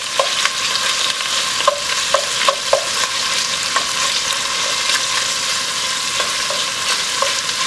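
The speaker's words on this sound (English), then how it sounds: "brown some of this pork a little bit at a time" Pieces of salt-and-pepper-seasoned pork brown in a hot pan with a steady, loud sizzle, broken by repeated scrapes and clinks as the meat is stirred and turned, close up and without speech.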